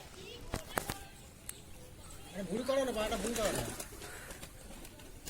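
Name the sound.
pigeons cooing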